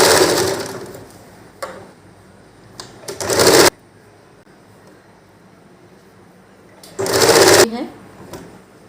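A domestic sewing machine stitches a kurti along a marked line in two loud, close bursts, one lasting about a second and a half and a shorter one later, with quiet pauses in between.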